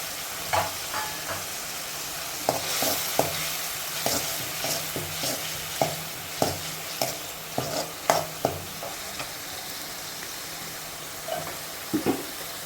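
Masala paste for spicy soya chunks sizzles in a pan under a steady hiss, punctuated by a dozen or so sharp scrapes and taps of a spoon stirring, close and alone.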